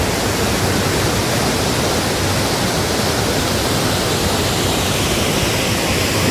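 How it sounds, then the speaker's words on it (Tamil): Athirapally waterfall in Kerala plunging into the Chalakudy River, heard as a loud, steady, unbroken broadband roar of falling water with no pauses or voices, close and constant throughout. "இங்கே விழுந்து சாலக்குடி ரிவர் ஃப்ளோ ஆகும்"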